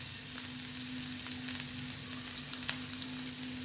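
Chopped onion fries in hot oil in a pan for green pea soup, giving off a steady, even sizzle that carries on without a break.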